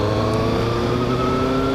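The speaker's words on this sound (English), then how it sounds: "just a guy on a Harley" A Harley-Davidson motorcycle passes on the road, its loud, steady engine rumble close by and continuous for the brief moment, no voices.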